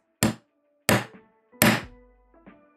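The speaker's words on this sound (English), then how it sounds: "I'm just using a ball peen. It only takes a couple of light taps." A ball peen hammer lightly taps a rivet into a leather strap: three crisp, close knocks spaced about half a second to a second apart, the last ringing slightly longer, then a faint fourth tap.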